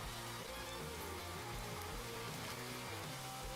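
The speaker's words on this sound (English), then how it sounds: "So I want there to be, a little bit of rain noise." Rain ambience from the video game Minecraft patters quietly and steadily, a soft continuous hiss of drops over a low, tonal background layer, with no voices.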